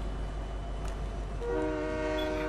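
A train in a video game starts up and sounds its horn, a steady sustained multi-tone blast rising out of a constant rumbling background and holding to the end.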